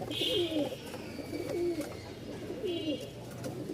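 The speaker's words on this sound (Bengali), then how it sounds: "এখানে হচ্ছে মোট দুই জোড়া কবুতর আছে" Pigeons, Jhorna and blue shorting-face breeds at a pigeon farm in Mirpur, coo softly in repeated low, throaty calls, several rounds over a few seconds, with a faint high whine in the background.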